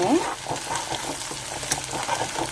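Sliced onions and green peas fry in a pan for a brinjal and pea curry, giving a steady, moderate sizzle with crackling pops and scraping stirs throughout.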